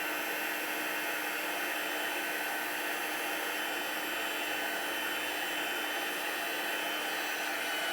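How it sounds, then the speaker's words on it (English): Craft heat tool melting embossing powder on a stamped card, a steady, even blowing whoosh held without a break throughout, close and alone. "So I heat it all up, and then once I feel like everything is heated, then I kind of focus more on the specific areas."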